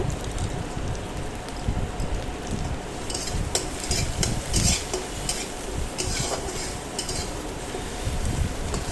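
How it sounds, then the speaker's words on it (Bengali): Spices with cumin and coriander powder are stir-fried in a pan, producing a loud, busy sizzle mixed with constant scraping and stirring of a utensil against the pan, close by and without speech. "ভালো করে এটা আমি কষিয়ে নেব।"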